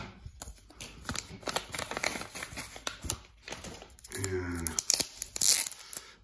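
A mail package from Card Advantage Europe holding Magic: The Gathering cards is torn open, with close, repeated ripping and crinkling of paper in short bursts and a louder tear near the end.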